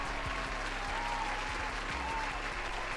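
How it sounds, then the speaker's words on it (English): Audience applause at a horror podcast taping, a steady wash of clapping lasting the full stretch over a low background hum, fairly distant and even in level. "let's clap it up, you guys"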